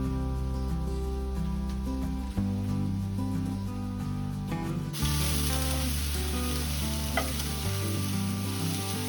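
Chicken burgers fry in a pan with a loud, continuous sizzle and spatter. The sound swells and brightens partway through, and no voices are heard.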